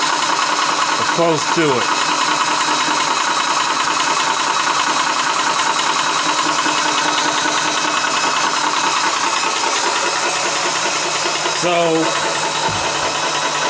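A Vevor PCP 4500 PSI high-pressure air compressor runs close by with a loud, steady mechanical drone and rattle that stays constant throughout, while someone talks briefly over it.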